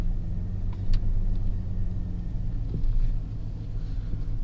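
A six-cylinder Chevrolet Silverado or GMC Sierra pickup with newly upgraded dual rear brake calipers pulls away, its engine a steady, loud low rumble that swells slightly as it gets moving.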